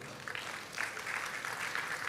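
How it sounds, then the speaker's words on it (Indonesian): A church congregation claps during a sermon, making a fairly soft, scattered applause that swells after the first second and holds steady, with faint voices mixed in. "Tepuk tangan buat Tuhan."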